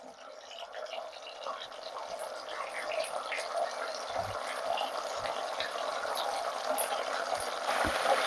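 Water poured into a pan of simmering fish curry, a steady close hiss and trickle that grows slightly louder over several seconds, with a few soft clinks and no voices over it.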